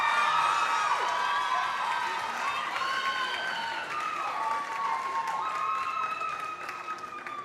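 At a school performing arts gala, an audience claps and cheers for a departing teacher, with whoops and excited shouting riding above the steady, fairly distant applause.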